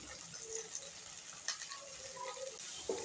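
Turmeric, Kashmiri red chilli, cumin and coriander powders fry with tomato in a pan for ghugni, a soft steady sizzle with faint scraping ticks, alone and fairly quiet.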